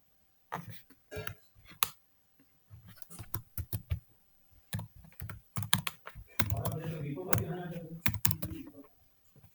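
Typing on a computer keyboard during a Linux SSH setup, close clusters of clicking keystrokes with pauses between bursts and a final keypress, while someone talks over part of it.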